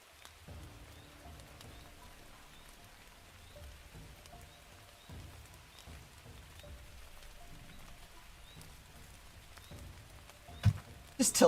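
Soft rain ambience playing in the background of a tabletop roleplay session, a faint steady patter under quiet voices, with a few louder knocks at the end.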